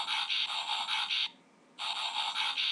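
Transformers Starscream toy playing its electronic transformation sound effect: a thin, buzzy, tinny speaker tone in two bursts separated by a short gap, fairly faint and close.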